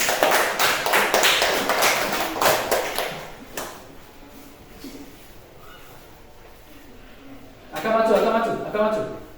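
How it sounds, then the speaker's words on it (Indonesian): Classroom audience clapping for a student group during a computational thinking lesson, a burst of many hands for about three and a half seconds that fades out, followed near the end by a voice speaking. "Kita berikan tepuk tangan."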